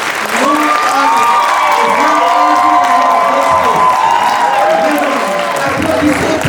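A concert crowd cheers and claps loudly and continuously, with shouted voices and whoops over dense applause throughout.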